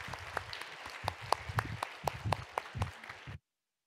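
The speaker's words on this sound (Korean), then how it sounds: "여러분들 다 같이 따뜻한 박수로 우리 같이 목사님 축복해 드리겠습니다" A Sunday church congregation applauds warmly to bless their pastor, with moderate, fairly sparse clapping in which individual claps stand out. It lasts a little over three seconds, then cuts off abruptly into silence.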